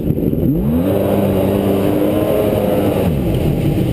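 A 1999 Kawasaki STX 1100 jet ski engine, suffering from plugged inline fuel filters, idles with a steady loud low rumble and a few wavering pitch swells.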